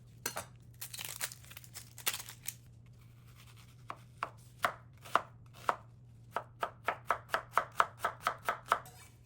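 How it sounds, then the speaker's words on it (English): A knife chops an onion on a cutting board, first in a loose cluster of cuts, then in a steady, quick run of sharp chops. "Finely chop 1 large onion."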